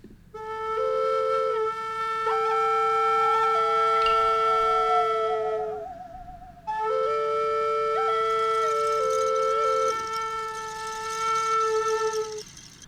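Goblin-style folk music layers a plucked frog kalimba with shakers and a bowed saw, its wavering sustained tones sliding and swooping over steady tinkling accompaniment, playing continuously with a brief pause midway.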